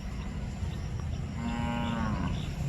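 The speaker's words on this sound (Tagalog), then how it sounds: "Yung mga baka natin, kalabaw natin guys." Cattle on a farm, one clear drawn-out moo from a nearby cow rising over steady outdoor background noise, with no talking.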